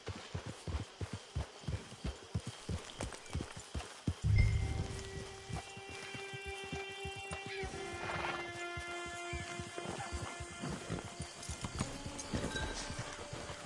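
Rhythmic clip-clop of horse hooves trots along at a steady pace, joined by a neigh and a soft musical tone partway through.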